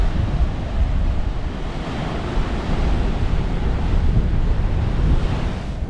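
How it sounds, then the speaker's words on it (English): Strong storm wind buffets the microphone on the rocky coast at Xghajra, Malta, with surf roaring underneath, a loud, continuous broadband rush that never lets up. "The wind here, I can feel it more"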